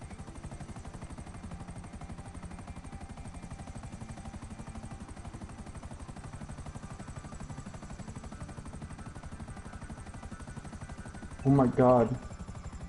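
Helicopter in a video game, heard as a steady, rapid rotor chop that runs evenly throughout at moderate level, with a brief burst of speech near the end.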